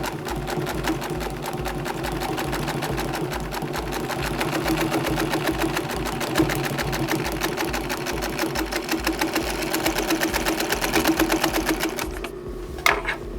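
Singer 112WD180 double needle industrial sewing machine stitching steadily and loudly for a long run, a fast even mechanical chatter that stops abruptly near the end.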